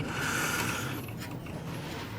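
A lock nut being tightened on a 1966 HR Holden during restoration, a steady close metallic ratcheting and grinding whir of a wrench turning, fairly quiet and continuous, without talk.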